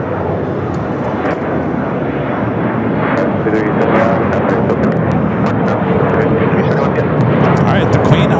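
Airliner taking off at LAX, a loud, broad engine roar building steadily and holding close, with people talking over it.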